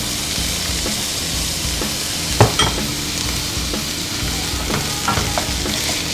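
Onions sizzling in hot oil in a pot, a steady close crackling hiss throughout, with occasional clinks and scrapes of stirring.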